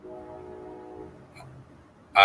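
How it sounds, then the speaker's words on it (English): A train horn sounds at a distance as a faint, steady tonal blast that fades out, followed by a quieter stretch and then a sudden loud burst right at the end. "I couldn't hear you for that loud train."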